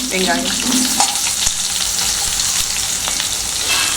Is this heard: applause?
no